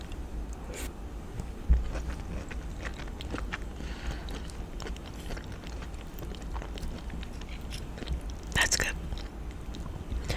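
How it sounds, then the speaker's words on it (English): Close, quiet mouth sounds from someone eating sweet potato and broccoli in a soft ASMR style: continuous wet chewing and small bites under a low background hiss, with a few sharper crunches. "And that's what I'm doing. We're chewing."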